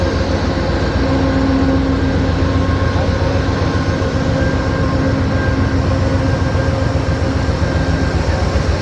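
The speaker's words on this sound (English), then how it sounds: "this is an older train. And then the two engines." An older passenger train on a Chicago to Los Angeles route rolls steadily along the rails, a continuous close rumble with a low mechanical drone and faint rhythmic clatter, no talk.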